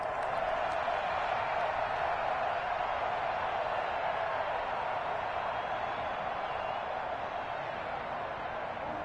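Football stadium crowd at an Arizona Cardinals game cheering after a stop on the opening drive, a dense continuous roar that holds steady throughout.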